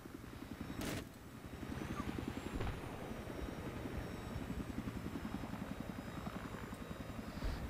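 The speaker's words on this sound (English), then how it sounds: "what's really nice about this helicopter is it just kind of hovers really well." A helicopter from the Battlefield 3 video game hovers steadily, its rotor giving a loud, continuous rhythmic chop with a throbbing low drone that runs the full length without talk.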